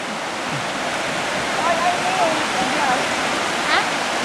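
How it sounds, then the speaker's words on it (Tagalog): Sea water washes up a beach at a holiday park, a continuous broadband rush of surf with soft swells, while faint voices and distant shouts carry over it. "Tumataas ang dagat, oh."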